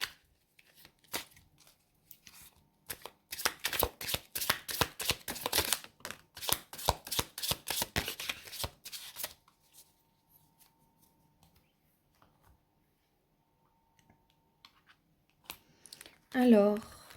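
Tarot cards being shuffled in a rapid burst of crisp riffling clicks, preceded by a few scattered flicks and followed by long near-silence with a short loud rustle at the end.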